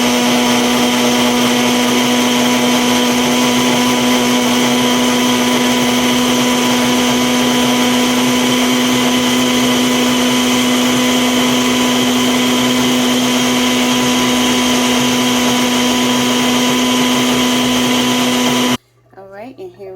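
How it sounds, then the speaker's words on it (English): Blender whirring at full speed through frozen berries, bananas, apple juice and walnuts, a loud steady motor drone with a constant pitch for nearly twenty seconds before cutting off abruptly. "And we're going to go ahead and blend this together."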